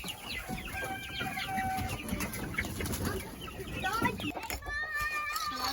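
Chickens cluck and squawk inside a coop on a Florida farm, several birds calling over a busy, scratchy background with occasional higher cries, moderately close.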